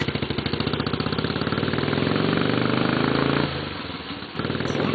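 A small Honda motorcycle engine bored up to 220 cc with a short stroke, running in rapid, hard-pulsing beats at high revs, dropping briefly in pitch before picking up again, loud and close with no talking.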